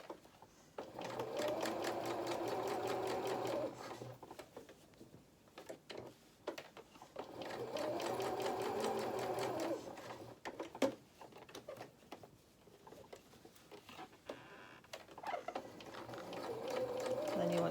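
A sewing machine stitches the body of a fabric toy donkey, running in long steady bursts of rapid, even ticking whir separated by pauses, close and clear with a voice talking softly between runs.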